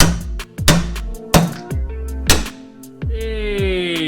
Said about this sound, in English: hoping I can just hit it with a hammer